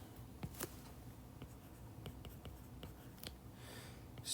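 Chalk or marker scratching out an electron configuration on a classroom board, a quiet run of short taps and strokes with brief pauses, fairly close and faint.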